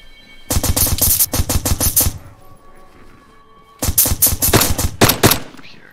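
Automatic weapons fire in DayZ on the Namalsk map, two loud close bursts of rapid shots separated by a short pause.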